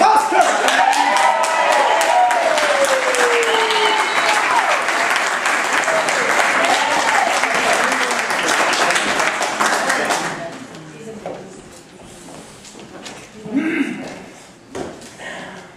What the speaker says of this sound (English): Please, everybody, give a warm round of applause for Mr. Ned Medium.